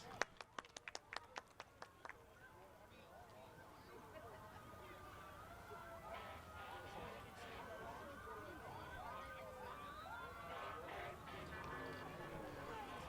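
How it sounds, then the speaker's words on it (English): Wailing sirens from police vehicles approach at the start of a parade, over a noisy outdoor crowd at a Martin Luther King Jr. celebration, after a burst of sharp claps or bangs at the start; people chatter throughout. "We hear the sirens. We hear them coming."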